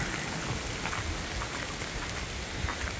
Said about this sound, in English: raining pretty much like this